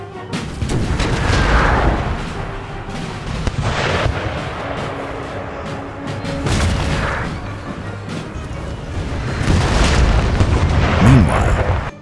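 Cannon fire booms repeatedly in a battle sound effect, deep heavy blasts rolling over one another with rumbling echoes, loud and dense throughout.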